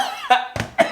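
A short burst of close, sharp coughs, three quick hacks in under a second.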